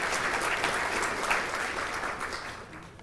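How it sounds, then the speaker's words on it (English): Audience applause fills a police awards ceremony, a dense steady wash of many hands clapping at once that holds for a few seconds and then thins slightly toward the end. "We'll give him a round of applause."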